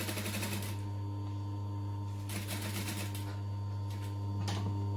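Sewing machine stitching and back-stitching a Greta clutch bag: a steady close motor drone with rapid needle chatter, pausing briefly and resuming in bursts.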